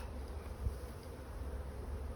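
Honeybees buzz in a continuous, even drone from an opened hive during an inspection, close and fairly faint, with low rumbling handling noise and no talk.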